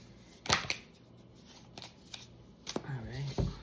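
A tarot deck is shuffled by hand in a few quick riffling bursts with soft pauses between, close by, and a person talks briefly during the last shuffles.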